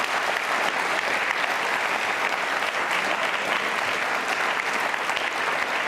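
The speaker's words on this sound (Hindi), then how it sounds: "एक बार तालियां जोरों से बजाइए अपने लिए।" Loud, continuous applause from a school audience at a quiz show on Lord Mahaveer, many hands clapping in a steady, dense wash throughout.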